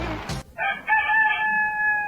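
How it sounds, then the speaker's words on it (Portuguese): A rooster crows once, loud and close, its drawn-out call rising and then holding steady before trailing off, with a brief noise at the start and no talk. "só falta ele, meu galo."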